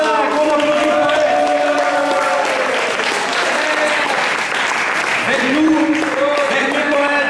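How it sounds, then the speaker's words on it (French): An audience at a 2015 slam poetry competition claps for a poet in steady, dense applause that lasts the whole stretch, with some crowd voices mixed in. "On applaudit le poète."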